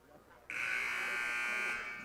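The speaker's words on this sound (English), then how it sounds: "And the buzzer sounds ending the timeout." A basketball game buzzer at a boys' varsity high school game between Kennedy and Oxford sounds loud and steady for about a second and a half after brief crowd murmur, ending a timeout before fading slightly.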